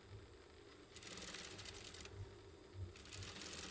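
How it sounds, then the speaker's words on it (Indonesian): A sewing machine stitches a seam on a pair of shorts, with quiet, rapid mechanical clatter running in two or three bursts and short pauses between them. "Tapi di sini saya akan setik supaya lebih kuat dan tentunya ada variasinya juga ya"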